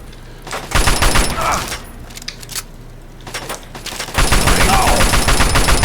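Rapid bursts of gunfire aimed at a turret in Fallout 3, loud and sustained, with a pause in the middle before a dense barrage resumes to the end.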